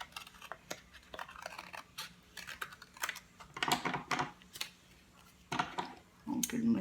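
Scissors snipping through paper to cut snowbank shapes for a handmade Christmas card, a series of quiet, close, irregular crisp cuts and paper rustles, with some handling noise.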